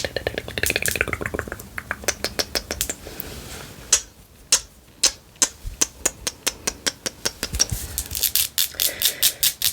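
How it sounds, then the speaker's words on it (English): Rapid, light clicking taps of long nails on a headband, close to the microphone, in quick irregular bursts that slow into a steadier run of crisp ticks. "Can you guys hear the headband tapping?"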